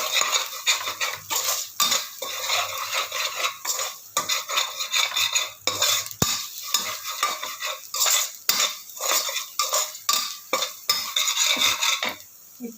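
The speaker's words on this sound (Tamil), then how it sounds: "இப்போ இதையும் நல்லா இந்த எண்ணெயிலேயே வதக்கி விட்டுருவேன்" Spices and meal maker are stirred and sautéed in oil for a veg chicken gravy, with repeated loud metal spoon scrapes and clanks against the pan in an uneven rhythm over a faint sizzle, and no voices.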